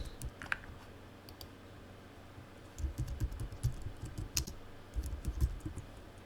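Rapid typing on a computer keyboard, with irregular bursts of close, crisp key clicks that grow busier and louder toward the end, with no voices.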